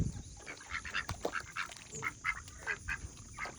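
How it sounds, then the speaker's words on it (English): Garden ducks on a rural property quack repeatedly in short, overlapping bursts at a steady pace, fairly close and moderately loud, with no talk. "Our garden ducks are doing great."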